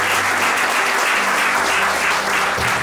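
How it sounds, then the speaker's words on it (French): Steady crowd applause fills a wedding ceremony hall, loud and continuous for the whole stretch, with a faint low hum of voices or music underneath. "Les acclamations pour le monsieur, s'il vous plaît."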